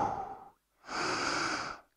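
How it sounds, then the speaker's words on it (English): A long, steady exhale through the mouth during a glutes-focused yoga workout, following a shorter breath and a brief pause, close and breathy, lasting nearly a second. "exhale through your mouth."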